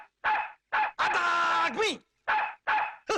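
A dog in a Tamil comedy film scene lets out a series of short, loud barks close by, including one longer, drawn-out whine-like bark in the middle. Someone speaks briefly between the barks.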